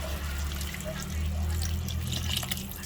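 Marinade pours and trickles into a pot of cooking pork for adobo, a close, steady sizzle and splash beneath a low hum.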